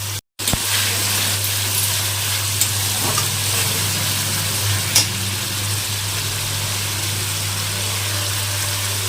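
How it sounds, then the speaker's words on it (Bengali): Chana dal with a splash of water is sautéed and stirred in a pan, giving a constant loud hissing sizzle with a low steady hum beneath and a few soft scraping touches. "জল দিয়ে আবার একটু কষাবো"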